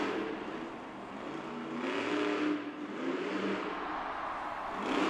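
The Monster Mutt Dalmatian monster truck roars through a freestyle run at a Monster Jam arena show in Austin, Texas, its engine surging and easing in long waves, heard at a distance inside the crowded arena.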